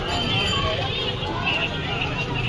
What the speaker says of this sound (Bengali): আর এই দেখো মেলা বসেছে, এটা হলো আমার বাপের বাড়ির মেলা।